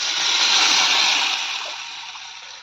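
Water is poured into dal cooking in a pot, producing a loud, close, continuous rushing splash that fades slightly toward the end.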